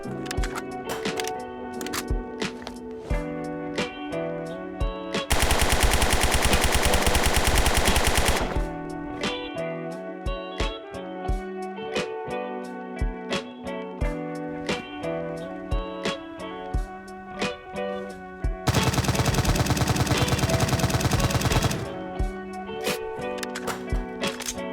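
Full-auto bursts from an ES36 rifle, modeled on the G36C, in the video game Zero Hour: Operation Black Dawn. Two long, loud, continuous strings of rapid shots stand out against a busy background of music and other game sounds.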